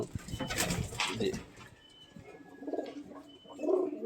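Pigeons coo softly in low, throaty calls, a few repeated phrases close by amid light rustling and flapping.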